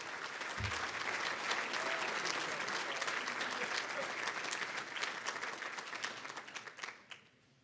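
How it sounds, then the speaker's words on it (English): A round of applause from the audience at a 1975 Northern Michigan University football celebratory dinner swells right away, holds dense and steady, then thins into scattered claps and fades out near the end. "how about a nice round of applause"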